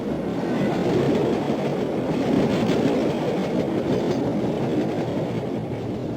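A train pulls into Sealdah station with a steady rumbling clatter of wheels and carriages, continuous and fairly close, with no voices.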